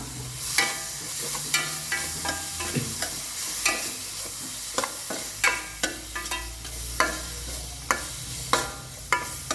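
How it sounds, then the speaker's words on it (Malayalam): Bitter gourd frying in a pan with turmeric powder for a Kerala ozhichu curry, stirred steadily with a spoon: soft continuous sizzle under repeated scraping clicks against the pan, close and moderately loud, no talk. "ഒരു അര ടീസ്പൂണോളം മഞ്ഞൾപ്പൊടി ചേർക്കാം ഒന്ന് ഇളക്കി കൊടുക്കാം"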